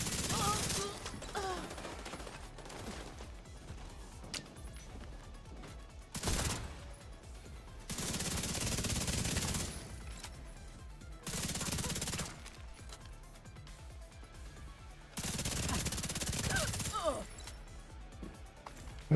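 Automated turret in a video game firing repeated bursts of gunfire, several loud sustained volleys separated by quieter gaps, with game sounds and talk in between.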